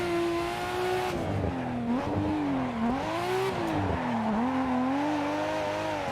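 Noriyaro's 'Beercan' Nissan Skyline race car drifting in a video game, engine droning steadily with the pitch rising and falling as the throttle works, accompanied by continuous tire noise throughout.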